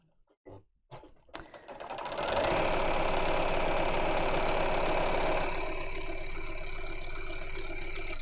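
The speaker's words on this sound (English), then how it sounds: "So sewing in straight lines now." A domestic sewing machine stitches straight lines, starting after a few clicks and then running as a loud, steady, rapid mechanical whir close up that eases slightly toward the end.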